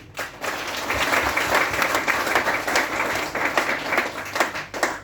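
Loud, close audience applause breaks out during a speech, a thick and continuous burst of many hands clapping with slight surges, lasting a few seconds.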